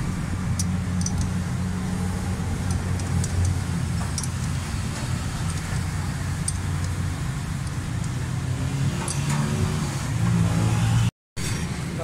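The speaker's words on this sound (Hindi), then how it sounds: "गाड़ी स्टार्ट है।" A Suzuki Alto 1000cc car, under repair for a fuel and AC pick-up problem, idles steadily after starting, with a constant low engine hum and faint ticks, close and fairly loud.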